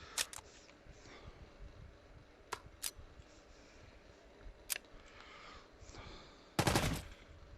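Gunfire in the VR shooter Hard Bullet: sparse, sharp individual shots spaced irregularly, ending in a louder close burst, with no talking.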